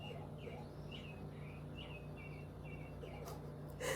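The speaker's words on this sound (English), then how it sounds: "You heard the birds?" Faint recorded birdsong from a nature-sounds player, birds chirping and tweeting in short repeated calls over a steady low hum, sounding distant and slightly thin.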